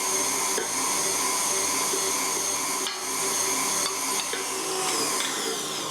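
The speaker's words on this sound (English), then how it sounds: "you're going to want to whisk this or mix it until it's nice and light and fluffy" An electric mixer whisks Irish Christmas cake batter with a steady, high whirring drone that runs continuously throughout, moderately loud, with faint clicks from the beaters against the bowl and no speech.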